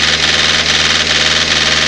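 A Toyota D4D 2KD diesel engine runs steadily during an injector nozzle cut-off test, a close, continuous idling clatter with a pulsing rhythm and no voices.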